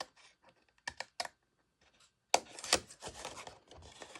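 Scissors snip through cardstock to cut out a score mark, giving a few sparse crisp clicks followed by a denser run of rustling, scraping cuts close by with no talk.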